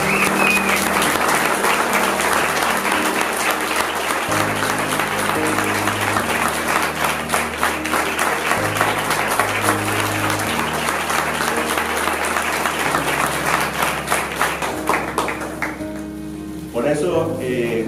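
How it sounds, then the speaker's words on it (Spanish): Warm, sustained audience applause at a photography exhibition in a public library in Las Palmas de Gran Canaria, dense clapping filling the room throughout with music underneath, fading slightly near the end. "creo que es más que merecido el aplauso más caluroso de toda la noche que ustedes le acaban de dar"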